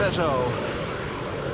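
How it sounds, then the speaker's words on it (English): An Embraer airliner taxis toward the center runway at Schiphol Airport, a broad, steady jet engine rumble with a faint falling whine. A voice briefly speaks over it at the start. "another Embraer going to the center runway as well"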